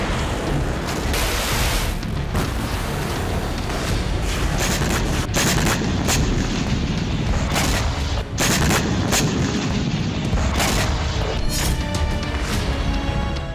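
Rockets fired in an attack from an underground site, in news footage: dense, continuous loud booms and cracking blasts fill the whole stretch without a pause.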